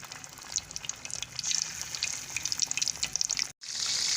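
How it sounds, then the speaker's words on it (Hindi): Coated marinated chicken pieces for KFC-style fried chicken crackle and hiss steadily in hot oil over a medium flame, a close, dense sizzle with a brief dropout near the end. "इसको तेल में डालते जाएंगे और मीडियम फ्लेम पे इसको फ्राई करेंगे"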